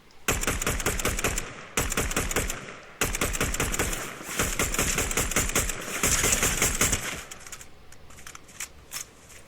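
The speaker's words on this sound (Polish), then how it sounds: "Tam ktoś strzela." Rapid automatic gunfire in Fortnite, in dense bursts of evenly spaced shots separated by brief pauses, loud and close, then tailing off into scattered quieter shots and background noise.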